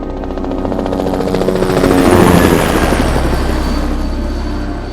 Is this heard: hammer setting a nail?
no